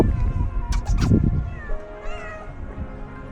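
Several street cats meow close by, with rising and falling cries overlapping in the second half, while a person talks briefly over the start.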